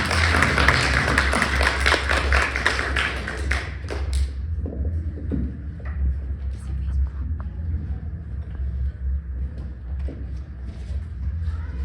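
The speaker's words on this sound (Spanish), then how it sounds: "Le daremos un caluroso aplauso" An audience at a lexicography workshop session claps warmly, a loud burst that stops abruptly after about four seconds and is followed by quiet room sounds and a few soft taps.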